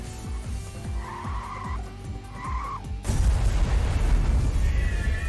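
In Cruis'n Blast, a racing arcade game, a car engine pulses in rapid rhythmic throbs with squealing tones, then gives way to a loud, sustained rough skidding roar.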